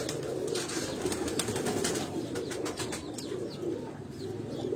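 Sialkoti pigeons on a rooftop coo in a low, continuous murmur beneath a busy bed of background noise with scattered sharp clicks and flutters, and no one speaks.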